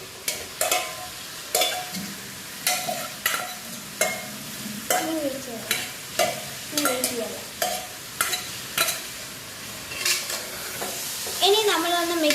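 Chicken pieces being stirred into hot oil for a Kerala-style chicken curry, a steady sizzle and frying crackle broken by repeated scraping stirs of a spoon against the pan, close and fairly loud, with no talking.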